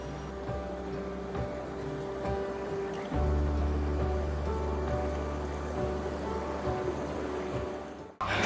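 The Pindar river flowing through the Pindar valley, a steady rushing wash in the background under a faint hum, continuous and fairly distant with no talk.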